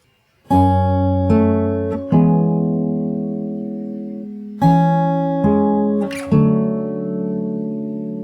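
Fingerstyle acoustic guitar plays the opening of a song, with sustained plucked chords struck in a slow, uneven rhythm about six times, close and clear with no voices.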